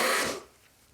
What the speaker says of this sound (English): I'm going to blow my nose for 1 second.